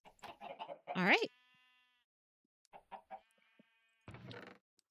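Chickens in Minecraft give short clucks and a rising squawk between bursts of speech, fairly close and clear.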